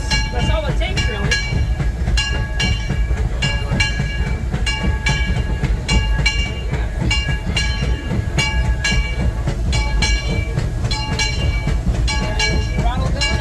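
Disneyland Railroad steam train rumbling steadily along the track with rhythmic clickety-clack, heard up close from the tender, with voices talking over the continuous running noise.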